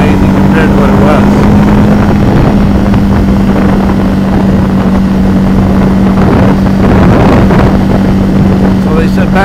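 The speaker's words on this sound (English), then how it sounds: "Don't get me wrong, I love this exhaust. This exhaust is amazing." A Ducati 749 motorcycle with an aftermarket exhaust runs with a loud steady engine hum, rising and surging in places, heavy wind buffeting throughout and someone talking over it.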